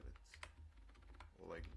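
Quiet, close tapping on a computer keyboard while writing HTML code, a quick irregular run of light key clicks under a low murmur of speech.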